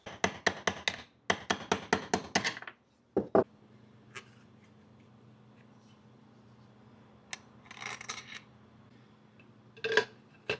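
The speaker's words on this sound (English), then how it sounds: "I'm going to hammer that lightly off the end of the shock here" Rapid series of metallic hammer taps on a Honda Fit shock absorber, knocking a part off, in two quick bursts, followed by a few isolated knocks and faint rattling against a quiet background.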